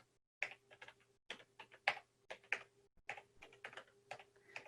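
A password is typed on a computer keyboard in short bursts of quick, close key clicks, separated by brief pauses, fairly quiet and without voices.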